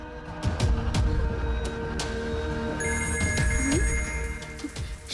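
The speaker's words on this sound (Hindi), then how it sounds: "श्री! श्री फोन!" A telephone rings with a repeating electronic tone amid background music and ambient noise in a Hindi-dubbed film scene, fairly close and clear.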